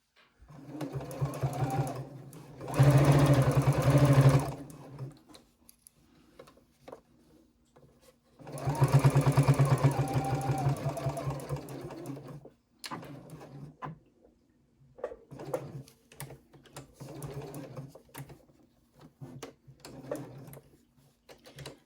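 A sewing machine stitches the seam of a small triangle pouch, its motor whirring in two long, loud bursts and then several shorter spurts of stitching, each ending in abrupt silence.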